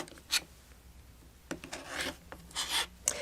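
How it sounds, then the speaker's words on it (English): A rotary cutter slices along a ruler to trim two sides of a fabric quilt block, heard as several short, close scraping cuts with brief pauses between them. "now I am going to trim 2 sides."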